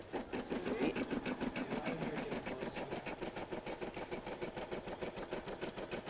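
Embroidery sewing machine stitching at a rapid, even mechanical rhythm, a steady close chatter of needle strokes that continues throughout at moderate volume.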